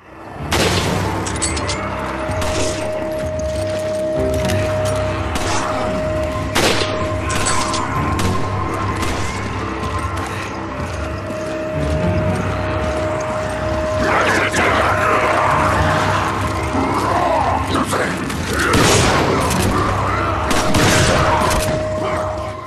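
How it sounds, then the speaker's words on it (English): Shotgun blasts and gunfire boom in Resident Evil 5 on Xbox 360, scattered sharp bangs ringing over a continuous backdrop of game noise and mechanical clatter, with a voice talking intermittently. "Shotguns are excellent, right?"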